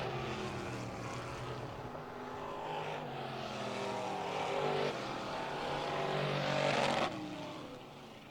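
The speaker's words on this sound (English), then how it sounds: "these cars just hitting the rev limiter in a big way, just past the start-finish line" Race cars at a night qualifying session of the Northern Summer Nationals, bouncing off the rev limiter just past the start-finish line: a loud, continuous high-revving engine roar with stuttering pulses and rising sweeps, steady throughout.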